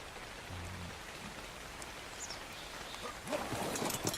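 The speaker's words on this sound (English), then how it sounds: "Oh, good. Some rain." Rain falls in the video game Ark, a soft, steady patter with a few louder drops toward the end, heard faintly in the background.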